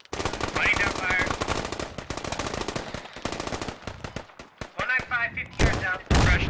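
Gunfire in the military shooter game Squad during an intense defensive firefight, with rapid machine-gun bursts and scattered rifle shots, loud and near, separated by short pauses, while voices talk over radio chatter.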